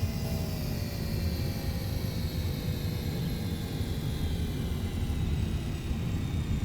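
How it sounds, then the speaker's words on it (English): A vehicle engine drones steadily under engine braking in the building game Gear Blocks, a constant loud mechanical hum without pauses. "Engine braking."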